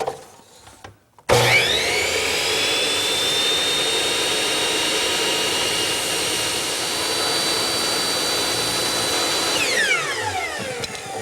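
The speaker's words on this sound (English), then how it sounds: "take my miter saw, put a block of wood against the fence" A miter saw spins up sharply and cuts through a small block of wood held against the fence, a loud, steady whining roar lasting several seconds before spinning down.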